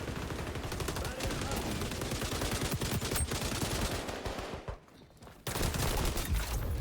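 Gunfire in the shooter game XDefiant, dense rapid automatic bursts of shots sustained across the clip, with a brief pause before firing resumes loudly.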